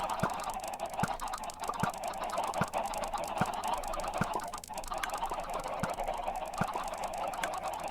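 A large crowd of chickens clucking in the modded Minecraft game Spellbound Caves, a dense continuous chorus of overlapping fowl calls with regular faint clicks, steady and fairly loud with no talking.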